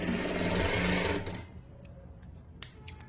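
A sewing machine runs in a fast steady burst of stitching through fabric for over a second, then stops, leaving quiet room tone with a few small clicks.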